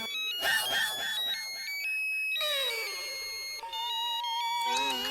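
An electronic ringtone plays loud and close, a bright synthesized melody of stepping beeping tones that repeats and shifts pattern.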